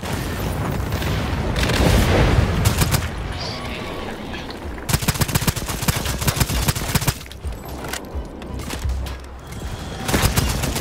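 Heavy gunfire in the Second Extinction video game: dense rapid bursts and booming blasts fill the scene. The rattling volleys come loud and nearly constant, with short lulls.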